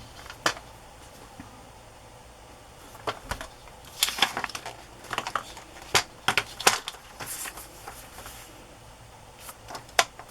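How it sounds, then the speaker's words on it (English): Scissors snip through a page of a 1950s-themed paper journal, a few quick close cuts scattered among soft handling noises in a quiet room. "I'm going to cut it here, and obviously there."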